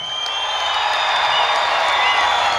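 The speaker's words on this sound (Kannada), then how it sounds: "ಜೋರಾಗಿರೋ ಚಪ್ಪಾಳೆ ಕೊಡಿ ಹೌದು ಅಂತಂದ್ರೆ." Dense, steady crowd applause and cheering from a large audience at an outdoor celebration event in Karkala, sustained loudly throughout with no pauses.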